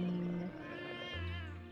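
A cat meows in the Jenny LeClue video game, a short clear call with a wavering, drawn-out tone standing alone over a low steady hum.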